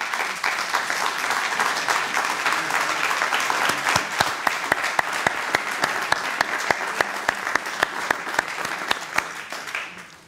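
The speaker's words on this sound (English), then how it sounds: "Now it would be great to clap." An audience at an annual university lecture applauds student representatives: dense, sustained clapping from many hands that builds and then tapers off toward the end.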